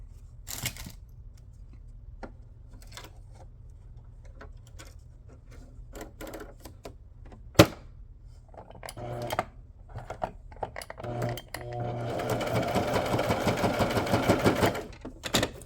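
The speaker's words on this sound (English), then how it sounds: "I'm gonna go ahead and sew this down." A sewing machine works on banner fabric: scattered soft clicks and short taps at first, then a dense, steady run of stitching for a few seconds near the end, quiet and close, with no talking.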